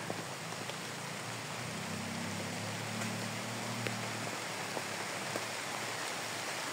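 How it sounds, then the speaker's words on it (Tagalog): Rain falls steadily in a constant, even hiss, with a faint low hum underneath and no voices. "Ayan na naman ulan."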